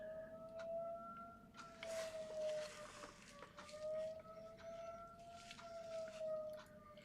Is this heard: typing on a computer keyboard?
no